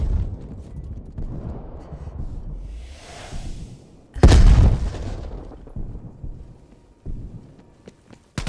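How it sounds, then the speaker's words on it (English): A Molotov cocktail thrown in Call of Duty: Cold War bursts into a loud fiery whoosh midway, rising abruptly over a murmur of low game ambience and fading into scattered distant rumbles. "Sending Molotov."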